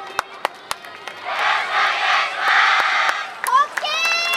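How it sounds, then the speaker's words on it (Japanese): A festival crowd at an outdoor YOSAKOI Soran dance stage cheers and shouts in a loud, steady swell, opening with a few sharp claps and ending with higher whistling calls. "ご声援を手拍子よろしくお願いします。"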